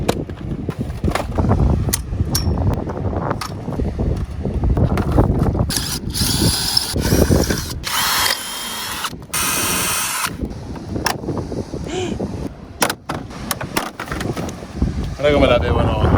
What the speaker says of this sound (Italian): L'idea è quella di prendere il trapano e rifargli il buco levando questa parte